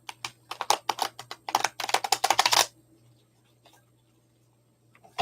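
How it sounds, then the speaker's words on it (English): Tarot cards riffle and snap in a quick run of sharp, close clicks for about three seconds, then stop, leaving near silence with a faint tap at the end. "I was just shuffling the cards."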